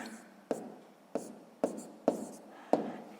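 A pen writing on paper while sixth-grade maths answers are worked out, with five crisp scratchy strokes at roughly even intervals, each fading quickly into quiet.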